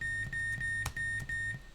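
A car chimes its startup beeps as it is switched on: a quick series of short, bright electronic tones repeating evenly, close and clear with no talking.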